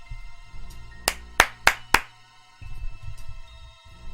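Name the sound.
hand clap into the microphone as an editing marker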